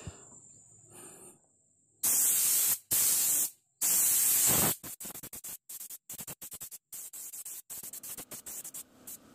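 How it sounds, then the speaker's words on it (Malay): A spray gun hisses loudly as 2K paint is sprayed on the skirt of a Proton Saga Iswara. Long continuous bursts are followed by many short, rapid trigger pulls, close to the listener. "Ini saya dah sembur pel."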